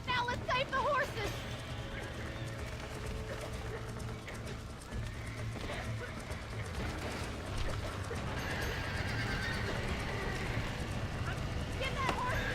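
Horses gallop and whinny in Red Dead Redemption, with steady pounding hoofbeats and neighs layered over a busy game soundscape, while voices talk throughout.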